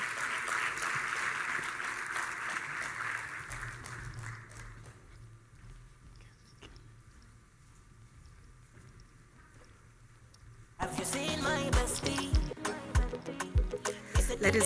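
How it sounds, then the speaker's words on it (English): Audience applause breaks out at a digital trade forum plenary session, a loud, dense burst of clapping that starts abruptly near the end after a quiet stretch of hall ambience. "Ladies and gentlemen, another round of applause for Honorable Oduwole."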